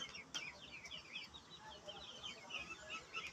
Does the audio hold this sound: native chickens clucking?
yes